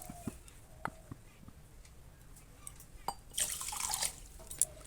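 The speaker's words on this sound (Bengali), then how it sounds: "এবার দিচ্ছি দু বাটি জল" Two bowls of water are poured over sugar in a pan to make a thin syrup for homemade tutti frutti, heard as close drips and splashes that end in a brief, brighter pouring gush.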